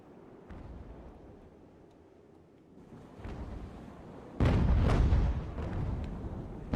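Naval cannon fire from sailing ships in an Age of Sail video game, grapeshot volleys booming as a couple of distant thuds followed by one louder, close blast with a rumbling tail.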